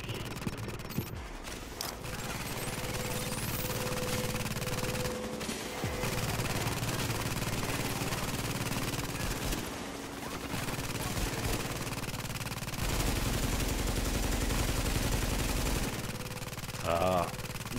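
Weapon fire in the video game Tom Clancy's The Division, a steady stream of shots under a constant game soundscape with talk over it, loud throughout the clip.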